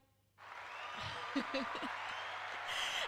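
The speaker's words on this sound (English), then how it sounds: "I'm going to press the applause thing again one more time." Soundboard applause effect kicks in abruptly after a short quiet start, a canned crowd clapping that runs steadily to the end, with a voice speaking briefly over it.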